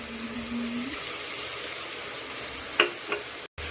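A soaked spice paste fries in oil in a pan for a tilapia fish curry, a constant close sizzle with a few soft spatula clicks and a brief dropout near the end.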